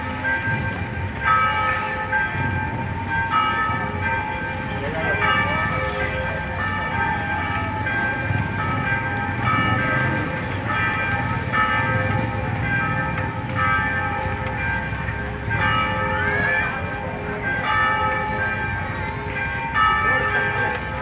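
Church bells toll steadily over a street demonstration against racism in Alfenas, Minas Gerais, a layered metallic ringing that continues for the whole stretch over a constant crowd and traffic hum.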